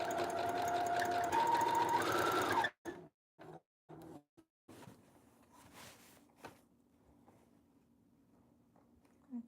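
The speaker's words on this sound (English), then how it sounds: "I can literally sew right on top of my mark" A sewing machine stitches a wedding gown in a steady, fast whirring run, close and fairly loud, then stops abruptly, followed by a few short stitch bursts and quiet handling.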